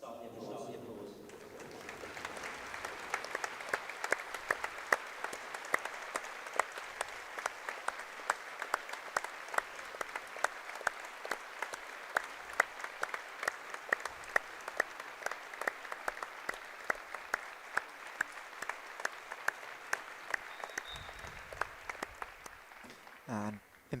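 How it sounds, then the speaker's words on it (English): An arena crowd at a women's Super League basketball game between Essex Rebels and Newcastle Knights breaks a moment of silence with sustained applause, which starts after a quiet pause and keeps up as steady, dense clapping, while a commentator talks over it. "If you're able to, you stand up and start the applause."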